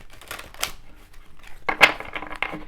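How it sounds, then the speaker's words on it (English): Tarot oracle cards being shuffled by hand, a few soft riffling and slapping bursts with one sharper snap near the middle, quiet and close with no talking. "let's do some shuffling and get this reading started"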